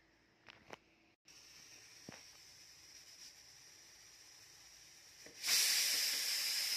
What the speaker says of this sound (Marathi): एक बाजूला कुकरची शिट्टी होत आहे.